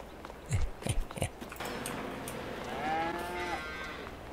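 Cattle moo in the video game Farming Simulator 22, a few low thuds and knocks first, then one drawn-out, clear moo rising and falling over steady background ambience.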